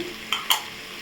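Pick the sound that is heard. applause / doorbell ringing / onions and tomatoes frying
onions and tomatoes frying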